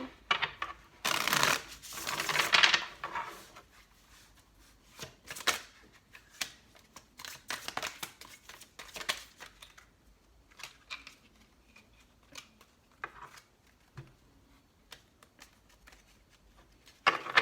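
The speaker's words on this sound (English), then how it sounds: "This will be our last shuffle." Playing cards being shuffled close by: a couple of riffling bursts at first, then scattered soft flicks and taps, fairly quiet overall.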